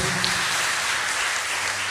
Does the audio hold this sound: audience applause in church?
yes